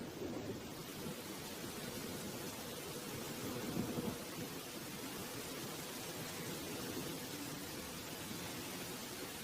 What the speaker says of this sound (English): The rain starts pouring down, like a harsh welcome to the real world.